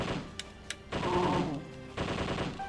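Machine gun fire in Zombie Revenge: two sharp isolated shots, then bursts of rapid automatic firing mixed with game effects, fairly close and moderately loud.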